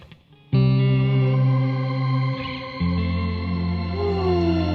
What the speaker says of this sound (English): The Strymon Big Sky is way more than just a reverb